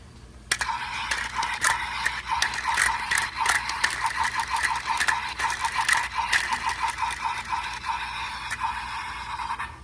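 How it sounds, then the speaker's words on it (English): Spinning gimmick on a Kamen Rider Gavv Blizzard Sorbet toy, a continuous rapid clicking rattle like a ratchet, close and steady for several seconds. "This spinning gimmick reminds me of a fidget spinner, no joke."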